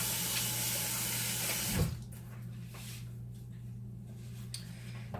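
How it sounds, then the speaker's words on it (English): Hands rinse under a running kitchen tap, a steady, fairly close water rush that cuts off abruptly about two seconds in, leaving a faint hum and quiet room sounds afterward. "Let me just rinse my hands real quick"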